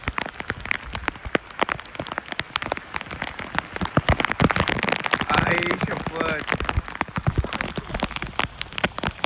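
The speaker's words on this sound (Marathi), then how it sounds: "भाई पाऊस एक नंबर खतरनाक वाढला." A monsoon downpour in the Tamhini Ghat hills makes a continuous, loud roar of rain hitting nearby surfaces, crackling with dense splatters, while a voice briefly sounds underneath midway.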